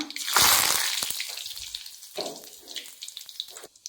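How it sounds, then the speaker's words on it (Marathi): Cumin, mustard seeds and curry leaves hit hot oil with a loud burst of crackling sizzle that fades, then flares again more softly, with a few spattering pops near the end. "तेल गरम झालं की त्याच्यामध्ये जिरे, मोहरी, त्यानंतर त्यात जाईल कढीपत्ता"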